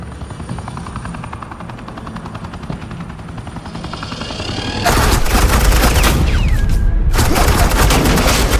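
Video game gunfire in Batman The Enemy Within: a loud, dense burst of suppressing fire erupts suddenly after a steady helicopter-like drone and continues to the end.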